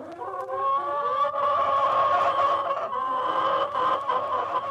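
Three hens and a rooster cluck and cackle together close by in a continuous, busy chorus of overlapping calls, with no talk.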